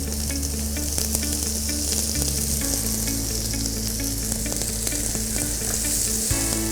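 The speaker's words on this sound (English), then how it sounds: "we have to saute the onions until it's golden brown" Onions sauté in ghee and coconut oil with a loud, continuous sizzle and crackle close by, steady throughout with no talk.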